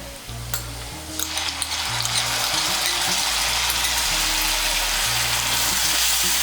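Tomato paste sizzles loudly in hot oil with browned onions, a steady crackling fry that builds after the first second, with intermittent scraping and stirring clicks and a low mechanical hum underneath.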